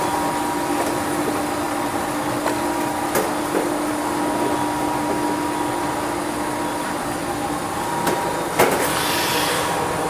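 A machine at a PVC pipe factory mixes ground recycled PVC plastic with chemicals, a steady loud whirring hum with a few faint clicks and one brief clank near the end.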